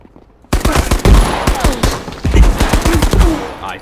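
Shotguns firing in the video game Marauders, a close, loud string of sharp blasts in quick succession with booming low thuds, coming in irregular bursts for over three seconds.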